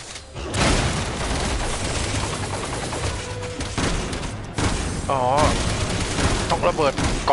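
Dense, continuous gunfire in Resident Evil 6 rattles throughout, with rapid bursts and grenade booms, loud and close, while voices talk over the action.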